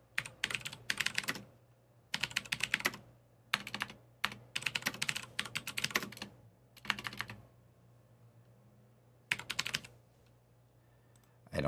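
Computer keyboard typing comes in several separate bursts of rapid clicking keystrokes, close and crisp, with pauses of near silence between runs.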